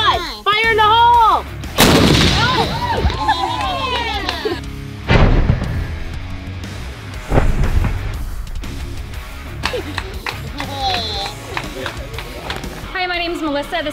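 A Scorpion tank's main gun fires several loud, booming blasts that ring out and decay, with people's voices heard between the shots.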